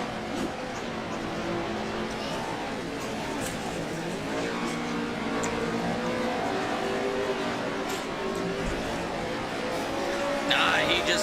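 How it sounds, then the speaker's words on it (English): A Pro Lite race car engine on a racetrack drones and strains loudly without a break, with what sounds like commentary talk over it during the race, at the moment the engine is blown. "And a blown engine for Blake Hewlett."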